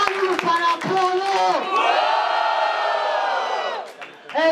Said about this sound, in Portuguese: Barulho para quem gostou da rima do Zeca. Barulho para Paulo